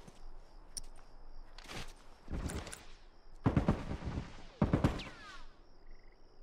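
Hunting rifle fire in The Last of Us Remastered multiplayer: a handful of sharp, echoing shots spread over a few seconds, some close and loud, others fainter, with game ambience between them.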